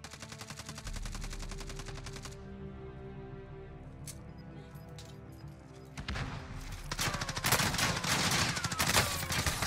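Gunfire in a video game shooter, with scattered sharp shots and then dense, loud bursts of automatic fire in the second half, layered over background game music and effects.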